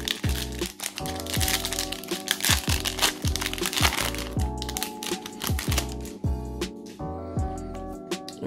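A Panini Mosaic trading card pack wrapper is torn open and crinkled close up, with a dense run of crackling and clicking plastic foil sounds.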